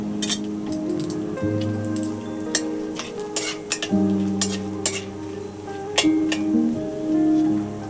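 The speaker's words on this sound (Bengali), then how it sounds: "এটার মধ্যে কিছু গরম মশলা দেব, লবঙ্গ, এলাচ, দারচিনি, আর একটা তেজপাতা দিয়ে দেব" Cloves, cardamom, cinnamon and a bay leaf fry in hot mustard oil, a close, steady sizzle dotted with sharp crackles and pops, with faint tonal sounds running underneath.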